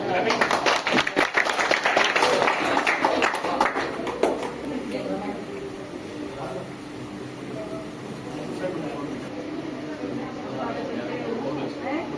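Audience applause at a commemorative event for the tricentenary of Queen Ahilyabai Holkar's birth: a dense, steady burst of clapping fills the first few seconds, then thins out and fades beneath a speaking voice.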